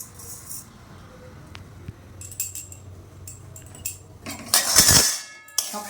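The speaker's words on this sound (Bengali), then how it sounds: "এবার সোনামুগের ডালটা ভেজে নেব।" Sonamung dal dry-roasting in a pan for fried mug puli pitha, with scraping and rattling stirring that comes in bursts, the clinks and clatter growing louder toward the end.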